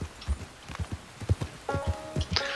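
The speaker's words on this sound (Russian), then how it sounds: "лошадь медленная, пипец. Еле едет." Horse hooves clip-clop in a steady, slow walking rhythm in Red Dead Redemption 2, the mount plodding along at an easy pace, with a brief higher game tone near the end and no talk.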